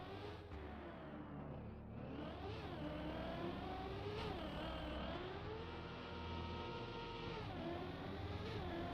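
A car in Deep Dip 2 accelerating and revving, its engine note climbing and dipping repeatedly in a steady continuous drone, moderately faint and without voices.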